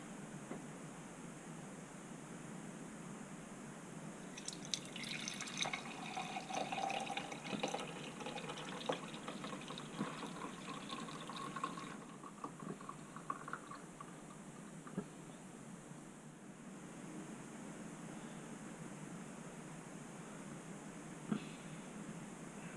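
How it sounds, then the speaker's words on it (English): Melted homemade ghee from unsalted butter poured through a filter, a soft continuous trickling stream that swells then thins out, faint and close with no talk. "Filtering the ghee."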